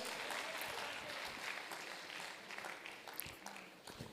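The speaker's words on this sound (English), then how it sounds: "Can we give them a big round of applause?" Audience at a literature day ceremony gives a sustained round of applause, dense crowd clapping steady throughout with faint voices mixed in.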